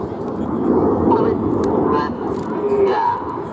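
Red Arrows jets flying a formation display at an air show roar past as a broad, steady engine rumble with rising and falling whine, heard alongside a commentator's voice.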